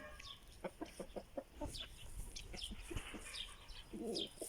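A young rooster clucks and gives short, rhythmic calls nearby, a few louder bursts near the end, with faint background noise.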